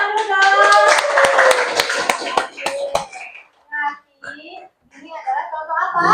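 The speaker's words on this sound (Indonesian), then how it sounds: "tepuk tangan dulu dong." A group claps hands in a classroom during a science lesson on light passing through clear objects: a dense, loud burst of applause for about three seconds, then a few isolated claps as a child's and an adult's voices take over.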